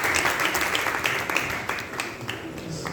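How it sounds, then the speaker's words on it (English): Applause for a nurse at a book review event, a lively burst of many hands clapping, fairly close and loud, with a few audible voices among the claps. "A round of applause for the nurse."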